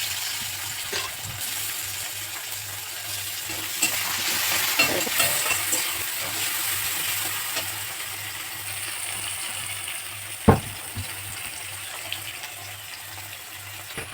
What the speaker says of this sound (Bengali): আমার টমেটোটা ভাজা হয়ে গেছে